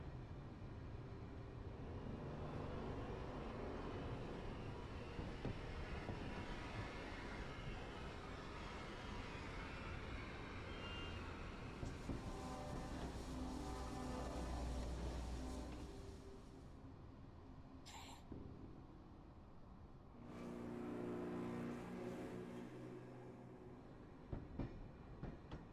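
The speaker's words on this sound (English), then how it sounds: "A train has arrived with artillery." A train pulls into a station in the game Pathologic 2, bringing artillery and soldiers: a steady, loud rumble of rolling wagons and rail clatter that eases off, followed by a brief high squeal and a renewed burst of movement noise.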